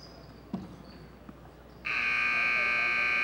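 At a youth basketball game between Austin and Marine, a loud, steady electronic buzzer blares in the gym, starting abruptly after faint court noise and a ball bounce and holding on continuously.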